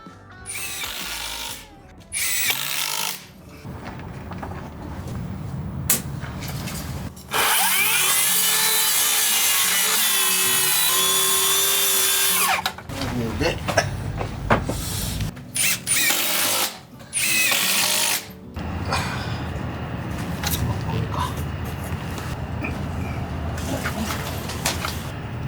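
A power drill drives screws into wooden ledger planks during a floor renovation, with repeated loud whirring bursts of varying length, one sustained run, and knocking and handling noises between them.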